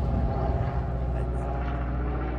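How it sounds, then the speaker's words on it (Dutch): Airplane droning overhead above a camper site, a steady low engine roar that fills the clip evenly at moderate loudness. "Trouwens gelijk even vliegtuig voorbij."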